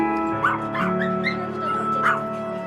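Puppies at an illegal breeding facility whimpering and yipping, with several high, plaintive cries rising over a constant low mechanical hum, close and fairly loud.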